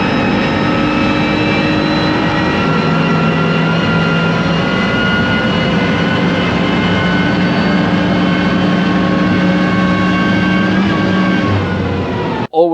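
A BMW M2 race build from Team Schirmer whines from its differential while lapping, a loud, steady tonal drone over engine roar that holds the whole way before cutting off abruptly.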